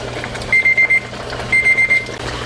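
A kitchen timer beeps in two quick sets of four sharp, high electronic tones, over a low steady background hum.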